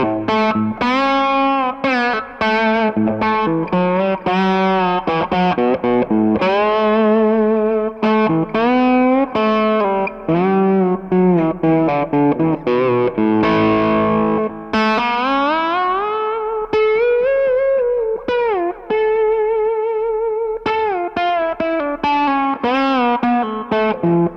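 A Gibson Theodore Standard electric guitar with crunchy distortion plays a slide melody, notes gliding smoothly between pitches, with sustained, singing tones throughout.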